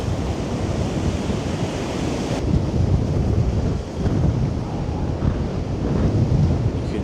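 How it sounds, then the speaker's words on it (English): Sea waves crash and churn beneath 60 mph winds at Blackpool during a winter high tide, a loud, steady roar of surf and gusting wind buffeting the microphone throughout. "You can see the waves in the sea."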